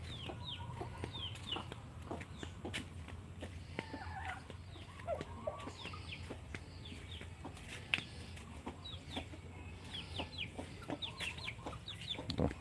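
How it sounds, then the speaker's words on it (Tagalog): Chickens cluck repeatedly in short, scattered calls, sheltered under a roof after a storm. Several birds sound at moderate distance over a steady low rural background hum. "mga manok"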